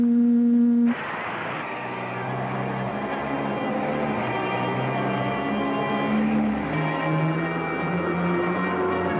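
A sci-fi spaceship tractor beam from a 1954 space-ranger serial, heard as a steady layered electronic hum with sustained tones that swell in at the start and drone on at an even level with no talk.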